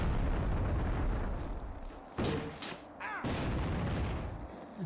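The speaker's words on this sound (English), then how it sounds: "So I'm using stun grenades." Stun grenades detonate in a video game, several sharp booming bursts with ringing tails cutting through a dense, rumbling background of game noise.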